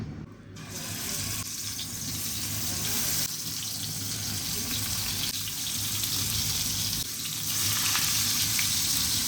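Continuous hissing sizzle of pangas fish frying in a little oil, even and close, with faint dips in intensity and no speech.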